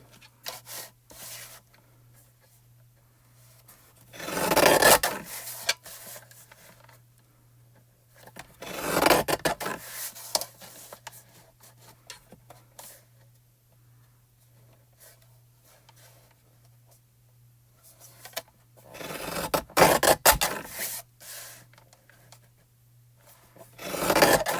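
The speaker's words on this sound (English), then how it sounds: "I'm going to cut this down to 5 1/4 by 4 with my Tim Holtz trimmer." Tim Holtz paper trimmer slicing cardstock for a card, with three separate rasping cuts spread across a quiet stretch, close and clear, each a short scraping swipe.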